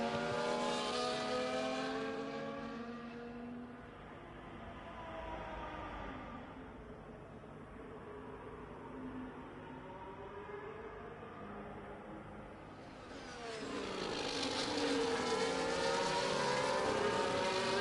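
F1 race cars in the F1 24 video game accelerate at a safety car restart, a pack of loud engines roaring and revving continuously. Pitch and intensity dip briefly mid-stretch, then swell again with no talking.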